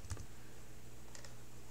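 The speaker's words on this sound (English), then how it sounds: "I use the right keyboard again" Computer keyboard typing in a quiet room: a couple of quick clustered keystrokes near the start and another short burst about a second later, fairly faint over low background hum.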